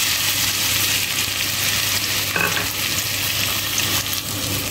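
Chopped onion sizzles steadily in three tablespoons of hot oil in a kadai, a dense continuous frying hiss with no speech, close and fairly loud.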